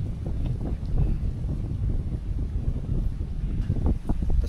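Steady wind buffets the microphone at a campsite with a tent behind, a low continuous rumble with gusty swells and no talking.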